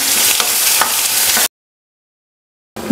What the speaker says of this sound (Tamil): கடுகு போட்டுட்டு பூண்டு, கருவேப்பிலை, அதுக்கப்புறம் வந்து வெங்காயம் இதெல்லாம் போட்டு தாளிப்பு போட்டுட்ருக்குறேன்.